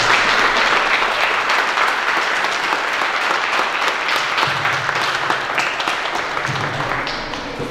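Wedding guests in San José del Llano, Miquihuana, Tamaulipas, applaud the newly married couple during the Mass, a loud, dense, sustained crowd applause that carries on for several seconds before tapering slightly.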